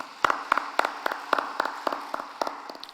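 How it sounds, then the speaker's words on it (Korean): A church congregation claps in blessing for members celebrating birthdays, a fairly small group producing a steady run of distinct, rhythmic claps, close and clear against a quiet room. "생일 맞이하신 분들 박수로 축복하겠습니다."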